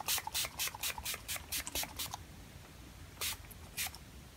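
Quick bursts of a fine facial setting spray mist, about ten rapid pumps in a row, then a short pause and two more spritzes, close and fairly quiet.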